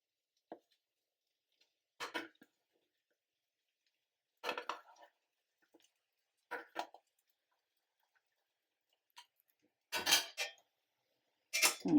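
Egg fried rice being stirred in a kadai, with sparse scraping and clinking strokes of a utensil against the pan, short bursts separated by near silence.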